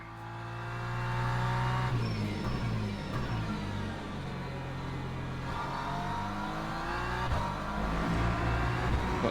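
Hypercars racing past in the Le Mans Ultimate racing game, loud engine roars and revving sweeping by one after another over a continuous car rumble.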